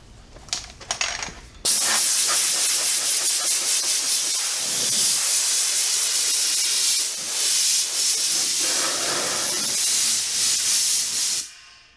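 A compressed-air nozzle blasts across a black car's waxed paint to dry it, a loud continuous rushing hiss lasting about ten seconds after a few brief spurts, then cutting off.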